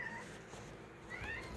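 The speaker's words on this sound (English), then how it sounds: "Kitty cat, I hear you talking." A house cat meows twice, close and fairly clear, with a short drawn-out call at the start and a longer rising-falling meow near the end.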